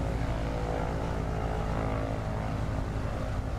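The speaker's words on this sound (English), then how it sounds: "He's Charlie ripping that beautiful yellow airplane off the ground." A yellow propeller airplane taking off in Microsoft Flight Simulator during a short-takeoff competition, with a loud, steady droning engine and buzzing prop that holds constant throughout, with no talking.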